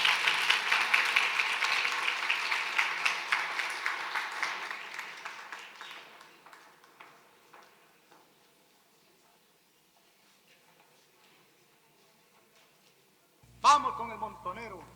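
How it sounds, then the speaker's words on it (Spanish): Strong applause from an audience at a cultural education event starts loud and gradually fades away over several seconds, followed by near silence and then a brief burst of voice at the end. "Palmas muy fuertes, por favor."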